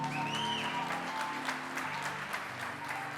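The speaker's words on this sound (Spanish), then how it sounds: "Dele un aplauso a Uri." An audience in a church applauds an 11-year-old drummer named Uri; a steady, fairly loud round of clapping with some crowd noise runs through the whole moment without a break.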